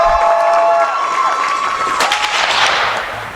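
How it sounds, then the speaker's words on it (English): A crowd at a high school event bursts into loud applause and cheering, a dense sustained roar of clapping and shouts close by, with one or two whistle-like tones. "Everybody, I want you to give a big round of applause to Bill Brown."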